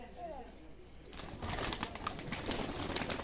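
Çıplak breed pigeons coo softly amid rustling and flapping, with a faint murmur of voices in the background.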